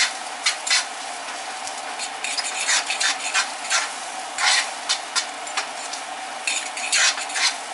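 Eggs and breakfast burrito filling being stirred in a hot frying pan, a utensil scraping and clinking against the pan in repeated strokes over a steady close sizzle, with no talking.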